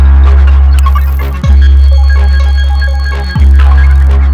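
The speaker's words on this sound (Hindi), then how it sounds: "सत्या, तुमने फोन क्यों नहीं उठाया?" In a Hindi-dubbed South Indian thriller film, a phone rings loudly and steadily as a tonal ringtone pattern that repeats in two cycles with no voices.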